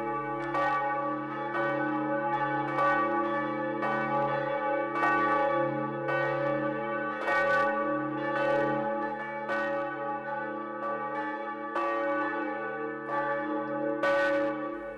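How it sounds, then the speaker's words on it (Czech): Church bells ring in the tower of an old Gothic church, a loud, steady peal of overlapping bell strikes with rich sustained harmonic tones and no voices. "Kolikrát jsem naslouchal zvonům na této věži."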